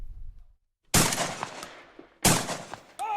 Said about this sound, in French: Des coups de feu qui sonnent comme un coup de départ de la saison de la chasse.